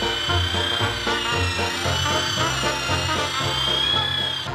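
Electric polisher with a foam pad buffing freshly lacquered car paint with number one compound, a loud close motor whine with a pulsing, wobbling low drone as the pad moves over the panel.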